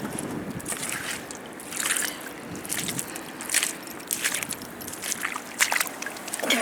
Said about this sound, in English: Let's go and give it a gentle rinse.